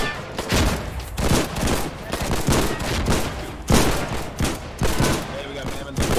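Dense, continuous gunfire from many weapons rattles across a beach landing in the war game Foxhole, bursts overlapping with heavy shots standing out at irregular moments, loud and busy throughout.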